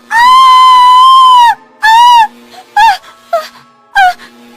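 A woman lets out a loud, drawn-out cry followed by several shorter, broken wails and sobbing gasps, close and alone without speech, as she is given an electric shock to the brain in a hospital bed.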